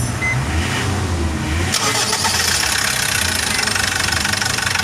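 A Foton CRDI diesel engine with an engine knock runs steadily up close with a rattly, rhythmic knocking; the sound grows louder and harsher partway through as revs rise.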